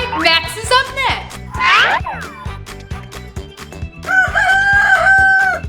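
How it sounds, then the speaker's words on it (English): A rooster crows loudly in a cartoonish, exaggerated way over a bouncy rhythmic music track, with springy boing-like effects. "A rooster?"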